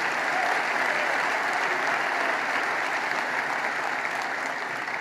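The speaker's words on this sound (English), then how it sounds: "She got the biggest ovation of anybody in the place" An audience at a political rally breaks into loud, sustained applause that fills the whole stretch as a dense, steady wash of clapping, with no break and no voice rising above it.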